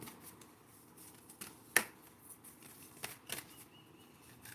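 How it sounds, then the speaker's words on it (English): Quiet riffling and soft slaps of large cards being shuffled, with a few sharper snaps standing out against faint background hiss. "these cards are the larger ones, so they are a little difficult to shuffle"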